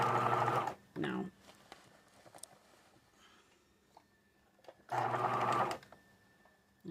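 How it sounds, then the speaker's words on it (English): A sewing machine stitching a patch onto ripped jeans, two loud whirring bursts at start and middle with a quiet stretch between, faint handling sounds and brief speech in the gaps. "don't sew over any pins if you can help it"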